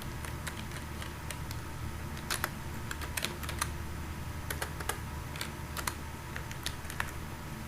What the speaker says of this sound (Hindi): तो HTML का कोड लिखने के लिए एंगुलर ब्रैकेट के साथ HTML टाइप करना, एंटर कर देना।